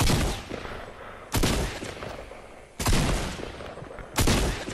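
Gunfire in Fortnite comes in repeated loud bursts, each starting abruptly and ringing out densely across the band, three heavy volleys in a few seconds with no talk.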